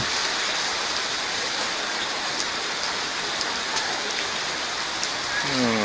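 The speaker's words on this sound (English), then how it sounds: "Boy, now it's pouring down again." Heavy rain pours down steadily during flooding in Hoi An, Vietnam, a dense, loud and constant wash of water with no talk over it.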